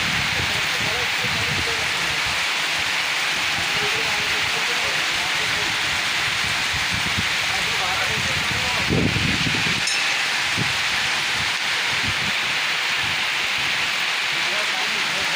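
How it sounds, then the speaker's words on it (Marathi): Heavy rain pours down outdoors in a steady, dense hiss around a bull standing in a farmyard, continuous and even throughout with no pauses. "पाऊसच पाऊस पडायला लागलेले"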